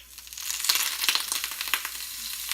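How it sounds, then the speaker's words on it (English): Butter melts and sizzles in a hot grill iron pan heating for ribeye steaks, a bright, close hiss that swells quickly and holds with small crackling pops. "my grilled iron pan is heating up, and I'm just gonna add some butter"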